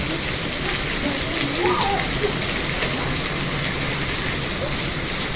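Unrelenting summer rain with hail in a storm pours in a thick, even hiss up close, with occasional sharper impacts and a brief stretch of someone talking partway through.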